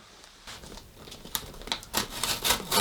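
A blade cuts through tape on a cardboard box up close, making a series of short scratchy, tearing strokes that grow louder and more frequent after a quiet start.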